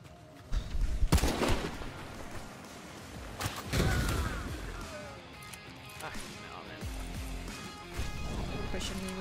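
Shotgun blasts and other gunfire in a hunting shooter game, with a few sharp, loud reports and crashing impacts over a busy background of game noise and a talking voice.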